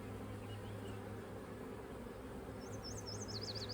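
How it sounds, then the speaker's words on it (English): Honey bees in a hive colony drone in a steady, low, continuous hum close by, with faint chirping birdsong rising in the background near the end and no talking. "bees in here"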